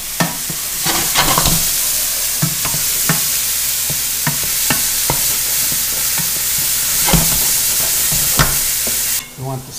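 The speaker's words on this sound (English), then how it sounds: "Frying sounds back." Food sizzles loudly in a hot pan, a steady crackling hiss punctuated by sharp clinks and scrapes of stirring.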